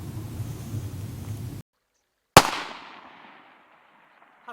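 A single sharp crack from a K1A submachine gun fired at a 600 m target, loud and close, with a long rolling echo fading across the range after a steady background hiss cuts out.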